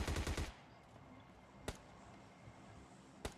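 Gunfire in PUBG Lite, a quick burst of rapid automatic shots at the start, followed by two isolated sharp single shots spaced apart over a quiet background.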